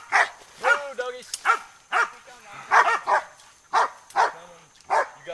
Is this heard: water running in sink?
no